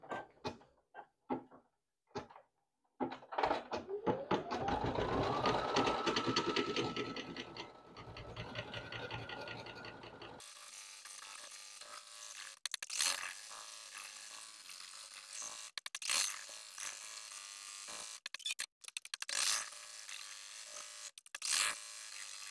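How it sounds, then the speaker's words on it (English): A single-needle embroidery machine stitching a design onto a sleeve buzzes in a rapid mechanical whir that speeds up and holds steady, then shifts to choppier running with clicks and brief stops, close up and moderately loud. "So I'm going to go ahead and let this stitch out."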